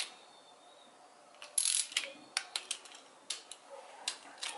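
Ratchet wrench tightening the rocker arm bolts on a 6.7 Cummins engine during a rebuild, a close series of sharp clicking bursts in uneven strokes, loud and alone.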